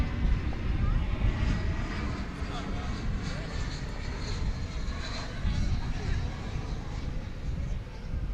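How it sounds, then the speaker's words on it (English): An Airbus A321 flies at night at DFW Airport, its engine roar steady and moderately distant, rising and falling slightly across the whole stretch, with a commentator's voice talking over it. "From Salt Lake City comes this Airbus A321"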